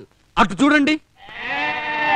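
Goats bleat in a Telugu comedy film scene: a long, wavering bleat rises and holds, close and fairly loud, right after a short spoken line.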